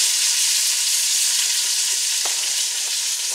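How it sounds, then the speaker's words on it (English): Chopped onions fry in a pan with crisped bacon for sauerkraut soup, giving a loud, steady, close sizzle that never stops, with a couple of faint knocks near the end. "I'm going to add my onions"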